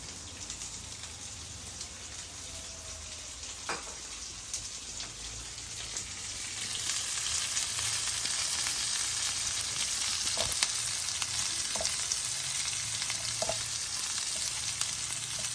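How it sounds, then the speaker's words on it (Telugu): Sliced onions and garlic frying in a pan for a broad bean and garlic spice dish, a steady hiss of sizzling oil that grows louder midway, with a few light clinks from stirring and no voices. "ఉల్లిపాయలు వెల్లుల్లి రెండు కలిపి వేగుతాయి అన్నమాట"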